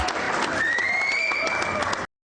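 An audience claps to welcome a man to a church altar, a brief steady round of applause with a sustained tone running over it before it cuts off abruptly.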